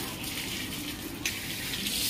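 Water runs steadily from a pipe tap used for washing feet at the Murdeshwar Shiva temple in Karnataka, a continuous close splashing gush with no talk.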